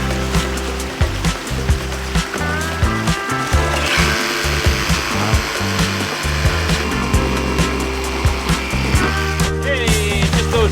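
A power tool bores holes through a scribed wooden board for a bushcraft waterwheel hot tub, giving a steady close grinding whine broken by rhythmic chattering pulses that run throughout without talk.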